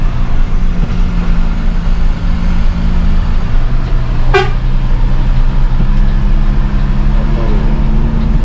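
A Basuri bus's telolet musical horn sounds once in a brief melodic burst, heard from inside the moving coach over a steady loud engine and road drone.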